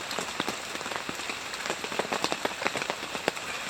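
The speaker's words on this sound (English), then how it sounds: "it's cold, it's raining" Rain patters densely on a campsite in the cold, still-dark early morning of Governor Dodge, Wisconsin, with close, irregular drops tapping steadily on a nearby surface and no voices.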